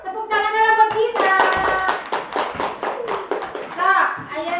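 Children clapping for a classmate named Gina during a Sundanese language lesson, several short bursts of hand claps mixed with a teacher's voice and children talking over and between them.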